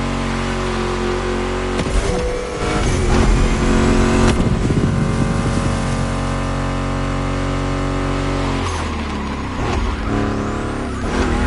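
A video game muscle car engine roars and revs continuously, loud and close, with surges in pitch and a music track playing underneath.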